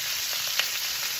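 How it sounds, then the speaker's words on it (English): White onions, red onions and broccoli sizzle in a stir fry pan, a dense, continuous hiss of frying with a single faint scrape of stirring partway through. "we're going to let that stir fry up a little bit"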